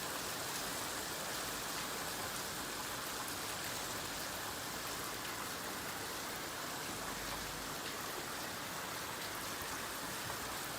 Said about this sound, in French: Ça pleut, il pleut, ça fait que ça.